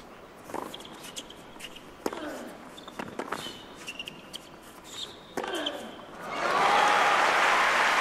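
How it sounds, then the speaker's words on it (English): A tennis crowd bursts into loud, sustained applause near the end, after some scattered court sounds and a few sharp knocks. "Huge applause for Djokovic."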